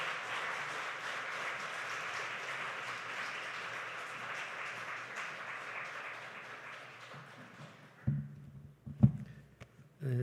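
A church congregation applauds warmly to welcome a visiting pastor at a New Year revival service, steady dense clapping filling the hall for about eight seconds before thinning into a few scattered claps.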